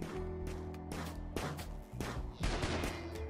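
Rapid bursts of gunfire in the video game RimWorld crackle densely over a steady game music bed, with heavier volleys toward the end.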